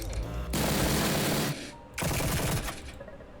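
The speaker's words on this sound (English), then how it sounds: "More firing of the weapon" Weapon fire in a Lucid9 fangame battle comes as two loud, dense bursts of rapid shots, each lasting about a second, separated by a short lull and trailing off at the end.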